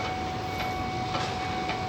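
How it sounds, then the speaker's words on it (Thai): A train rolls past, a steady loud broadband rumble and hiss of rail cars with a faint high whine running through it, continuous and close throughout. "รถไฟมาแล้วครับเนี่ยเป็นขบวนที่สวยงาม"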